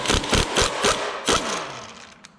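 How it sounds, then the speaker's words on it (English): Pneumatic impact gun hammers at the crankshaft harmonic balancer nut on a Ford small block, firing in five short, loud bursts with a brief rattling tail. "You got to get your big nut off of there. The impact gun works the best."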